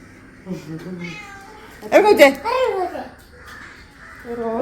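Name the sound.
cat meowing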